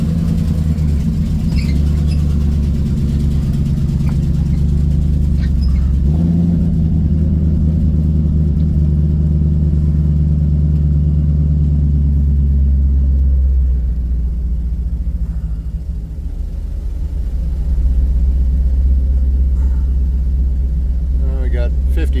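A Ford Ranger with a swapped Gen 3 Coyote V8 idles loud and close as it pulls out of a garage, a steady deep rumble with a slight dip in level near the end, with someone talking over it.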